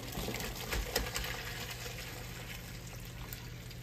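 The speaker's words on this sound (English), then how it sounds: "I'm gonna just pour it in here." Giblet broth pours steadily into a bowl in a kitchen, a continuous liquid trickle and splash close by, with no talking over it.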